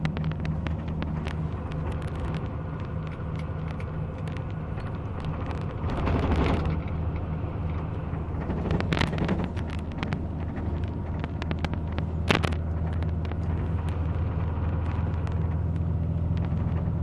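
A car engine runs at a steady 1,600–1,700 rpm in seventh gear while driving along a mountain road, giving a constant low droning hum with wind noise and a few brief bumps and rattles.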